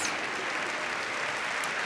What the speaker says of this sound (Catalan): Vinga, més aplaudiments.